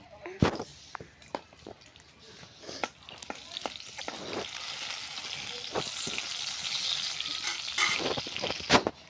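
Bay leaf, dried chili and garlic frying in hot oil for a lentil dish, with sharp knocks and scraping stirs at first, then a rising, steady sizzle, close by and moderately loud.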